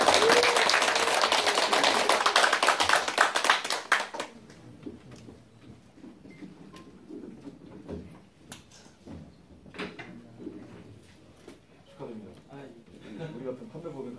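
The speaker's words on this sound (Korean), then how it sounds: "우리 모든 회원님들의 큰 힘찬 박수 한번 부탁드리겠습니다." Members at a Korean company's MOU signing give a burst of loud, dense clapping that lasts about four seconds and then stops abruptly. Quieter talking and scattered clatter follow.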